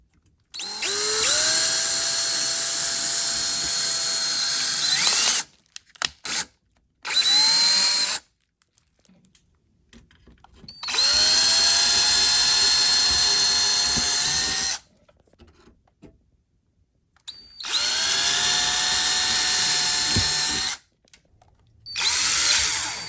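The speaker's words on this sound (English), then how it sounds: "with one hand is got the drill on low. Got the drill on slow." An electric drill on low speed whirs in three long bursts with short blips between, drilling holes, spinning up and running steadily, loud and close with pauses of near silence.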